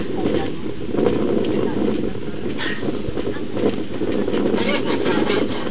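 Wind blows outdoors at a youth camp, a constant rough buffeting rush against the microphone with faint gusty swells, heard continuously at a moderate level.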